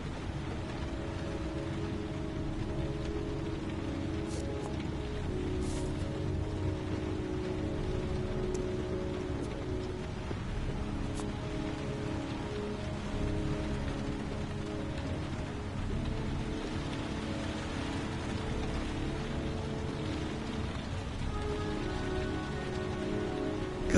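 Steady rain falls throughout a scene in the video game Heavy Rain, a continuous even hiss with a low ambient hum beneath and no speech.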